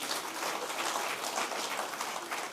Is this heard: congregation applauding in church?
yes